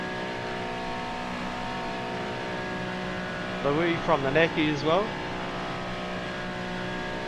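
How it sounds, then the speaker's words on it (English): A GT3 race car at a SuperCars NZ summer series round holds a steady, even engine drone on track. A commentator's voice briefly rises over it. "Let's crank up the sound in this car"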